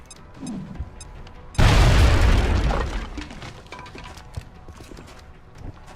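A grenade blast in the video game XCOM: Enemy Within erupts suddenly as a loud, deep boom, then rolls off in a long rumbling decay over a couple of seconds, with quieter game sounds after.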